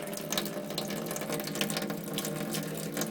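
Sprouting seeds rinsed under running tap water, a continuous close splashing stream that runs steadily throughout without pause, with no voices.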